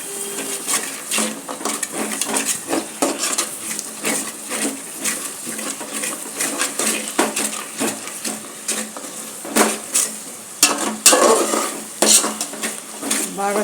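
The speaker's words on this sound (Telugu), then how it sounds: "బాగా చూడండి ఎంత చక్కగా ఎంతసేపు మసాలా ఉడుకుతున్నదో" Biryani masala of tomato, chilli and onion cooking in a pan, with constant sizzling and repeated metallic clinks and scrapes of a spoon stirring against the pan.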